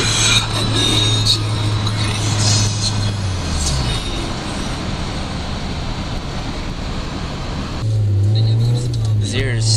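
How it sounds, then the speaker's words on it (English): Cabin drone from a 1991 Nissan Sentra 5-speed fitted with a Flowmaster Super 10 exhaust, no stereo playing. A loud low exhaust hum holds steady, drops out at a gear change midway, then returns strongly near the end. "the sound of the car with the Flowmaster Super 10 on it from the inside, no stereo"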